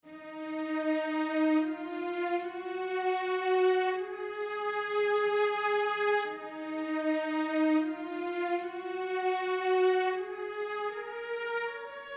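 A sustained bowed cello line from a BBC Symphony Orchestra sample glides slowly between long held notes, smooth and resonant, with no voices and no gaps.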